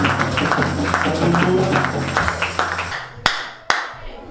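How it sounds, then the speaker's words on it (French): A church congregation claps and applauds loudly together for a few seconds, then the crowd noise fades and two sharp, separate claps ring out near the end. "on acclame très fort pour la grande écoute"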